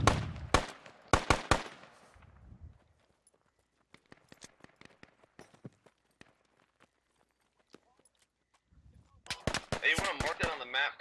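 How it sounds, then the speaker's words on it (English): Long-range gunfire during a defensive firefight in the video game Squad: sharp shots and short rapid bursts open the clip and return louder at the end, with scattered distant single cracks between quieter gaps. "Watch out for long-range shots fire south."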